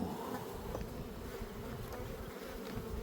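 Bees hum in a dense, continuous buzz from a full hive heavy with stored honey, close and steady throughout with no talking.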